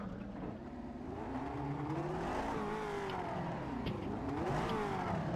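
Race car in a racing game accelerates hard out of a curb at Spa, engine revving and pitch rising and dropping through gear changes, steady and fairly loud with no talk.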